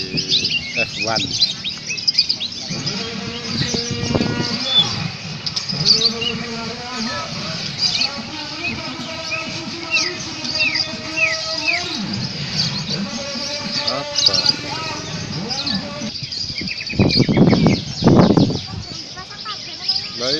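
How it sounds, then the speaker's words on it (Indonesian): A canary at a songbird singing contest sings a long string of warbling trills and chirps, with people talking intermittently underneath and over it. "Burung kenari"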